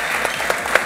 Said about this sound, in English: Please give a fantastic round of applause.